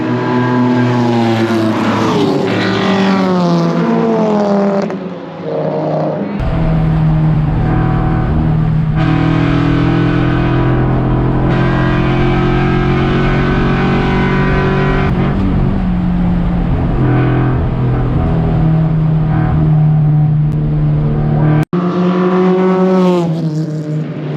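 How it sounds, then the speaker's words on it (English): Race cars in an 8-hour endurance race in the rain at Canadian Tire Motorsport Park roar past and fade away, with loud sustained engine drones that shift in pitch, heard near and continuous with no talking. "There's some cars going away."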